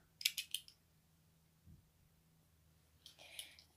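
A few sharp snips of scissors cutting through crochet yarn, two quick bursts at the start and another pair near the end, close and crisp with quiet pauses between.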